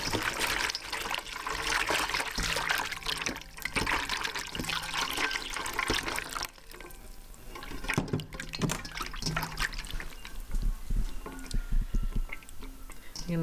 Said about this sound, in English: Just going to give them one more rinse.